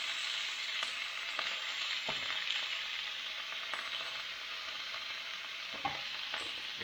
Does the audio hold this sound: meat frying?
yes